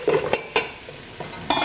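Onions sautéing in a pan for a vegetarian chowder, with a steady sizzle and several scraping stirs of a utensil against the pan, close and fairly loud.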